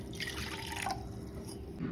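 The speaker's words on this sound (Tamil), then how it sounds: "தண்ணி ஊற்றிக்கலாம்." Water is poured into a drink made with jaggery and a cardamom pod, giving a faint, short trickle and splash that fades out within a couple of seconds.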